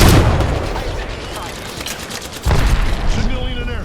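Dense, rapid gunfire strikes the player in Apex Legends, loud and close, with overlapping bursts and a sharper volley near the end, over constant game effects.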